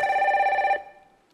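A telephone rings with a bright, steady electronic bell tone during a call to an insurance company after a car accident. It sounds once for under a second, then cuts off and fades into silence. No one speaks.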